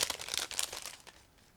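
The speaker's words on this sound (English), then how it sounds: "we have the clear frame which is packed into the separate plastic bag. So just give me a second to open it" A plastic bag holding the clear parts sprue of an ICM 1/24 Ford A gangster car model kit is opened, giving a short burst of close crinkling and rustling that fades out over about a second, with no talk.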